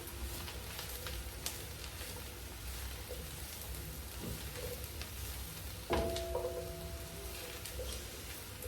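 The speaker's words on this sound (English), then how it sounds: "So we'll go in with our mushroom to get them a bit brown too." Mushrooms and onions fry in a pan, giving a steady hiss and crackle with occasional scrapes and knocks as they are stirred.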